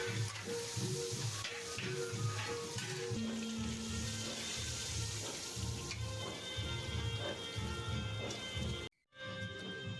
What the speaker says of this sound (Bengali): মাছগুলো দিয়ে সুন্দর করে লাল লাল করে ভেজে নিতে হবে।